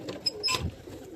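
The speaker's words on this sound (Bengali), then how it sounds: "পায়রা সব বের করে দিয়ে" Pigeons coo faintly and briefly as they are let out of their coop, with a soft low murmur over quiet background noise.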